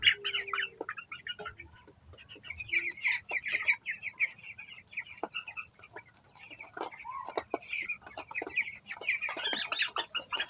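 Seventeen-day-old broiler chickens cluck and cheep steadily in a poultry shed, a busy flock chorus of short repeated calls at moderate distance with no talk.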